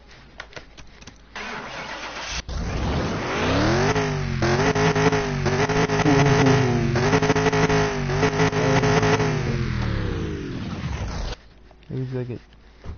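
A Barracuda car engine fires up and revs through several rising and falling pulls before dropping back to a lumpy idle, loud and close, with people talking before and after.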